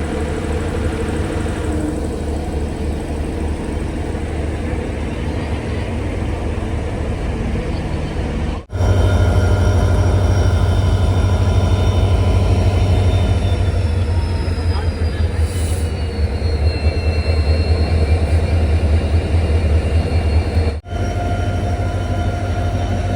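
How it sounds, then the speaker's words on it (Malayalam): A locomotive couples to the Poorna Express on a Pune to Ernakulam run, heard as a loud, steady rail rumble with metallic squeals and clanks, broken by brief dropouts, with no speech over it. "ലോക്കോമോട്ടീവൊക്കെ സെറ്റായിരിക്കുകയാണ്"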